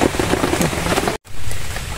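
Heavy rain falls steadily on a fishing spot by a bridge, a dense, loud hiss with a brief dropout of silence midway.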